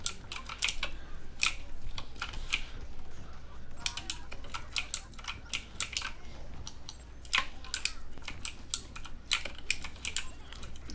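Rapid computer keyboard typing during Overwatch support gameplay, close and crisp with bursts of clicky keystrokes and brief pauses, no talking.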